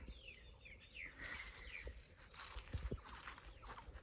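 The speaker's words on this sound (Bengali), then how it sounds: "জানি না আসলে শুনতে পাচ্ছেন কি না পাখির কিচির মিচির শব্দ" Birds chirp in a tea garden near Sylhet, with scattered tweets and short call sweeps in the middle distance over faint outdoor background noise and a few footstep-like thumps.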